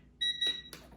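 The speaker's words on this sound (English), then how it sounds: "Oh, there's my timer." A kitchen timer beeps in a brief high electronic tone, followed by a couple of soft clanks nearby in a quiet room.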